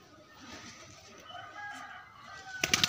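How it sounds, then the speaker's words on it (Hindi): A rooster at a rooftop pigeon loft gives a faint crow and clucks over background hum, with a brief louder burst of sound near the end. "अजाने दे रहा है अपना मुर्गा"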